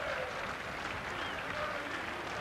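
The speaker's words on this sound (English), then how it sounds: "Appreciative round of applause." A rugby crowd in Perpignan at a 1991 France versus Great Britain match applauds steadily, a soft, distant wash of clapping that holds evenly throughout.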